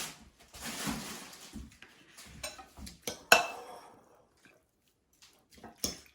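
Spaghetti aglio e olio stirred in a pan with olive oil, giving irregular scraping clinks of utensil against cookware with short metallic knocks, close and moderately loud, trailing into quieter gaps.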